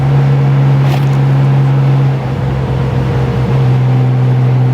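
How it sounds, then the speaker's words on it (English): Riding a Honda motorcycle at about 55 mph fills the helmet mic with a constant loud rush of wind over a steady low engine drone, with no talking. "I want to see how much wind noise the mic actually picks up and how much it'll filter out."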